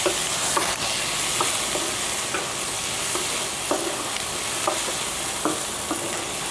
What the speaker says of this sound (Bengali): পেঁয়াজ টমেটো ক্যাপসিকাম তাড়াতাড়ি ভাজা হয়ে যাবে